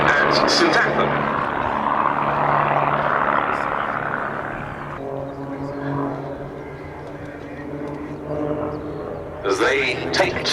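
Vans RV-8 propeller aircraft flying at the Duxford Summer Airshow, a sustained loud engine and propeller drone that rises and falls as the planes pass, with a commentator speaking over it throughout.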